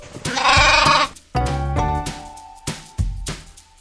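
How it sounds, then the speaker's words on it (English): A domestic goat bleats in several loud, close, wavering calls, the first long and harsh and the later ones shorter with pauses in between, heard alone. "goat,"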